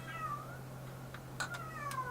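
A cat meows a few times, faint and somewhat distant, with soft rising and falling calls over a low steady hum, no talking.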